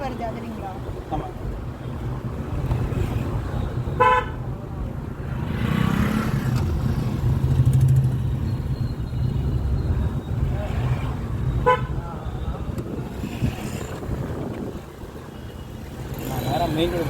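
A car on the road during a driving lesson, its steady engine and road rumble continuous throughout, with short horn toots around four and twelve seconds; people talk over the traffic noise.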